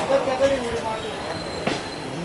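Madurai-Okha express pulling out of Rajkot junction, a steady rumbling roll of rail cars with faint wheel squeal, one sharp clank near the end, and voices talking under it.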